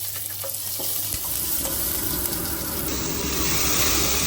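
Garlic, green chillies and onions frying in a pan, a steady hissing sizzle that holds without a break at moderate loudness, with a faint clink near the start.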